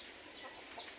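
Egg-laying chickens in a hen house give a few faint, high clucks against a quiet background.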